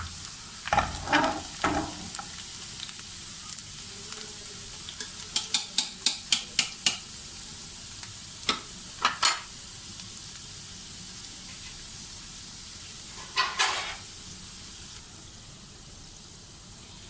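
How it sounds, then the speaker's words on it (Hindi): Onions sizzle softly in a hot pan while a utensil scrapes and stirs in scattered bursts, with a run of quick clinks midway. "प्याज, शामिल कर देंगे और इसको गोल्डन ब्राउन होने तक पकाएंगे।"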